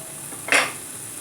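Tomatoes drop into a cooking pot of black-eyed peas or beans with a single brief clatter and splash, a close metallic knock that quickly fades under a steady low hiss.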